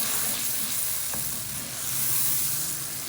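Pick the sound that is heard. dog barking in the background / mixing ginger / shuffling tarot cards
mixing ginger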